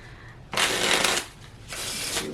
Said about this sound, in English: I will shuffle just a few more times